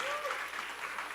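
A church congregation at a middle-school youth worship service claps together, producing a short, even burst of applause.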